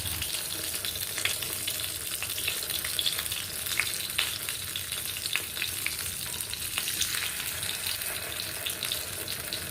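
Kuzhi paniyaram batter fries in an oiled pan, a continuous dense crackling sizzle that stays fairly quiet and even throughout, with no talking.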